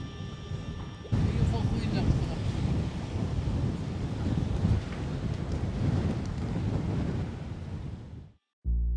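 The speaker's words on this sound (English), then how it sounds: "Too much wind." Strong wind buffets the microphone while sailing at sea, a loud, continuous roar of gusts and rushing air with a sudden break near the end.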